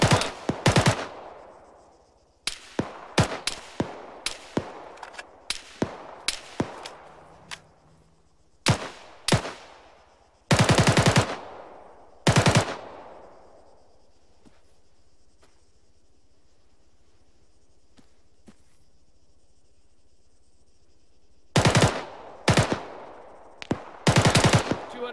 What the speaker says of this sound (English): Enemy fire. Covering fire.